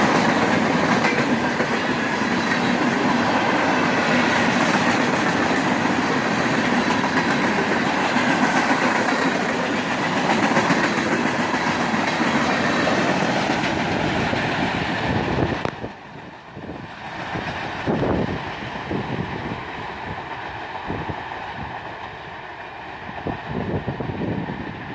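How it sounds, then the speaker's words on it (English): A CSX freight train of empty flat cars, pulled by a pair of big engines, rushes past at speed with a continuous loud roar and rhythmic clatter of wheels over rail joints, thinning slightly in the last stretch. "The pair of big engines has plenty of power to pull this empty train"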